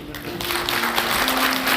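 A brief burst of applause for the worship team at a Korean missionary conference in Chiang Mai, Thailand, with a steady tonal hum underneath.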